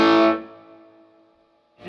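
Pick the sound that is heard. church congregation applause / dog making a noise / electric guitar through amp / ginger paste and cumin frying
electric guitar through amp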